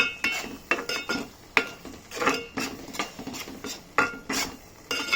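A spoon scrapes and clinks against a metal pan while mushroom masala curry is stirred after salt goes in, with irregular close knocks and rattles and no talking.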